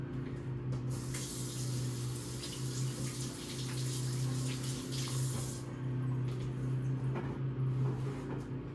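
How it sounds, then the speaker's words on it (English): Hands being rinsed under a running kitchen tap: a steady, close stream of water splashing into a sink for several seconds, fairly quiet and without speech. "I'm gonna rinse my hands really quick"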